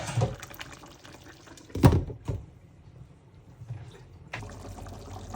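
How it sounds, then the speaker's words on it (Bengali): Water pours in short splashy bursts into a cooking pot for biryani, with quieter handling sounds and a brief pause between pours, close and moderately loud. "আমি বিরিয়ানির জন্য এই হাঁড়িতে পানি দিয়েছি"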